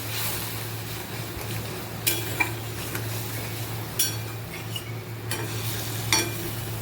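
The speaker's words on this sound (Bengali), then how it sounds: "কাশ্মীরি লঙ্কার গুঁড়ো আর লবণ দেব ভালো করে কষিয়ে নেবো" Kashmiri chili powder and salt sizzle steadily in hot oil in a pan for a potato and paneer curry, with a spoon now and then scraping and clinking against the pan, no one speaking.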